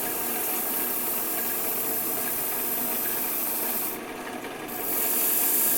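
Sandpaper at 220 grit rubbing against a turned wood piece spinning on a lathe, a continuous close hiss over the motor's steady hum, briefly softening for a moment before resuming, with no talking.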